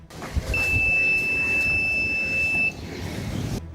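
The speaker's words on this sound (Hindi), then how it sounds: "अचानक अलार्म बजने लगा" A social-distancing cap's alarm sounds as one continuous high-pitched electronic beep for about two seconds, over low background rumble and noise.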